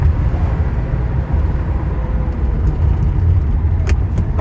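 Engine of a 1986 Porsche Turbo-look Targa during downshifts, a loud steady low rumble from close by with gradual changes in tone and no voices.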